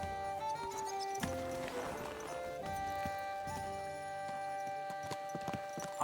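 Horse hooves clip-clop at a walk in Kingdom Come: Deliverance II, steady and fairly close under game music, with a brief whinny-like sound partway through.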